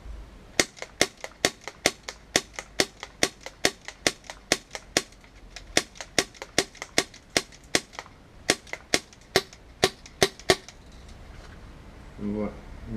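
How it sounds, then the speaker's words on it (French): Airsoft G36 replica firing in a rapid, steady series of about thirty sharp, loud pops, each carrying a short hiss of gas escaping from the barrel, followed by a brief rustle at the end. "vous avez entendu donc la détonation avec le gaz qui pouvait s'échapper donc du canon"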